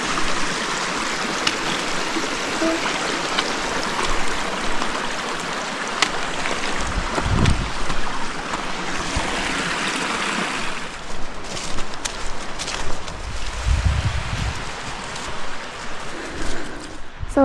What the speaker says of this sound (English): There's another little water crossing here.